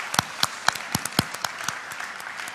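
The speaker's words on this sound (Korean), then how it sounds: "그 놀라운 일을 행하신 주님께 감사의 박수를 올려드립시다." Church congregation clapping in thanks during a Good Friday communion service, a moderate, uneven patter of many hands with several sharper claps standing out, steady for a few seconds.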